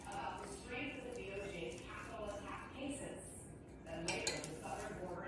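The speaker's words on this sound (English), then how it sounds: "Give it a good whisk." A whisk clinks and scrapes against a bowl while blood orange glaze is stirred, with uneven rhythmic taps and rattles under a voice talking throughout.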